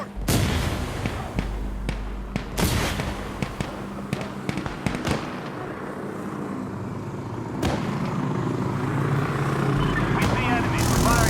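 Gunfire crackles in the co-op war shooter Insurgency Sandstorm: sharp shots and bursts ring out irregularly over a constant battlefield rumble, with voices talking through the action.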